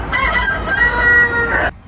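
A wild rooster in Malta crows once, loud and close, a single drawn-out call lasting under two seconds before cutting off.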